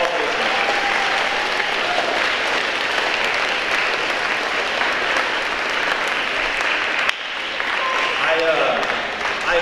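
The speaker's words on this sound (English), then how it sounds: "let's give our teachers a big round of applause for all they did" A school crowd at a junior high awards program gives its teachers a big, sustained round of loud applause, a dense steady roar of clapping that dips briefly near the end, then swells again.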